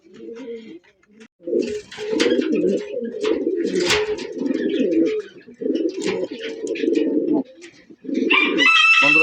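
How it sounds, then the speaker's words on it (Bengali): Racing pigeons coo in a steady, close chorus of low, throaty calls that continue almost without pause, with a few short breaks and brighter chirps layered above. "আর এগুলা রেসার কবুতর, এগুলো বাচ্চা কাচ্চা দিয়েও রেস করাতে পারবেন"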